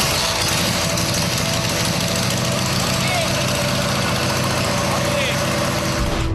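The Lakewood Special custom-built motorcycle's engine runs close by: a loud, steady, continuous drone with a faint whine and no break.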